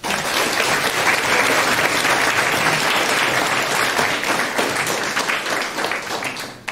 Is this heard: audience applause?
yes